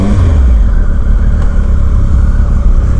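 A 2019 Triumph Speed Triple RS motorcycle accelerates hard on the road, its engine roaring loud and close without a break.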